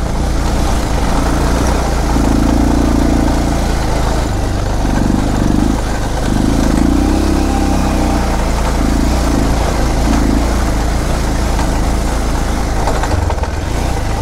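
A motorcycle engine idles steadily near a village road, a continuous low rumble with a slight wavering hum throughout.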